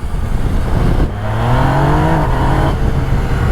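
A Yamaha Niken three-wheeled motorcycle engine pulls loudly and close while riding, its rising engine tones climbing through the gears over steady wind rush, with no voices.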